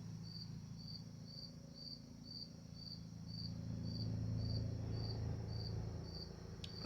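Crickets chirping at night, a regular pulsing trill repeating evenly throughout, moderately distant over a low steady background hum, with no voices.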